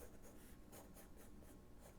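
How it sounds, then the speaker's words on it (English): A pencil scratches steadily across paper while a cartoon hippo is drawn, with close, continuous strokes that swell in brief rhythmic bursts. "use our pencil"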